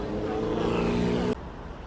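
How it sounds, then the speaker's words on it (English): Heavy evening road traffic in Little India, Singapore: a steady engine roar of cars passing close by, continuous and fairly loud, then cutting abruptly to a quieter street hum. "The traffic is insane, man,"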